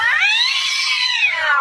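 A cartoon cat lets out one loud, drawn-out yowl that rises and then falls in pitch, heard alone with no talking.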